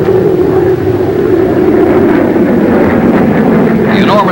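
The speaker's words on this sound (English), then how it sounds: "it makes a low-level approach at the reduced speed it will be using someday for a carrier landing" A Banshee jet fighter with J-34 engines flying a low-level, reduced-speed carrier landing approach: loud, steady jet roar with a rising whine near the end, under wind buffeting and a narrator's voice.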